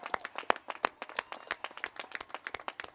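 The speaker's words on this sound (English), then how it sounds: "Let's applaud them." A commencement audience applauding honors graduates, dense rhythmic clapping from a crowd, steady and fairly close throughout.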